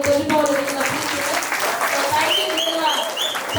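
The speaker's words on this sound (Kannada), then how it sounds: "ಚಪ್ಪಾಳೆ ಆಶೀರ್ವಾದ" Guests applaud at a first birthday celebration, a dense burst of clapping mixed with voices and a few whistle-like tones throughout.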